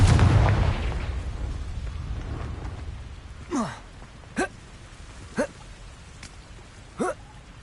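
Confringo spell blasts in Hogwarts Legacy: a heavy burst at the start, then four sharp, separate pops a second or so apart, each loud against a quiet background.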